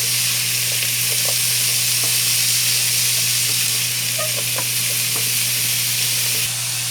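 Milkfish steak ingredients fry in a pan with a loud, dense, unbroken sizzle, while light scrapes and taps of stirring come through now and then.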